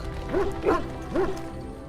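A dog in the Dragon Age: Origins video game gives three sharp barks in an even rhythm, loud and close, with game ambience running underneath.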